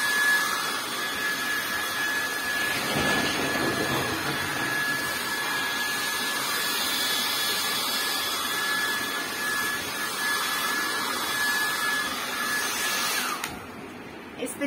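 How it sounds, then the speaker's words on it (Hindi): A handheld hair dryer on its heat setting blows warm air onto hair to steam it, a loud, steady close-up whoosh that holds unbroken for most of the stretch before cutting out near the end. "ड्रायर को हीट पे करो और ऐसे ऐसे स्टीम लेनी स्टार्ट कर दो।"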